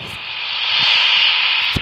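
Airliner jet engines spin up in the Roblox flight game PTFS, a steady loud whine and hiss that builds over the first second and holds evenly, with a few faint clicks underneath.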